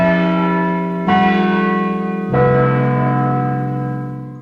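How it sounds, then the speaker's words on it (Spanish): Church bells ring out in two fresh strikes over a long sustained ringing tone, loud and close with a slowly fading hum and no voices. "repicaban campanas"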